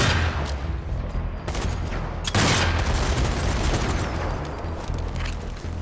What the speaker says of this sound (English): Take a couple shots at him while he is standing still.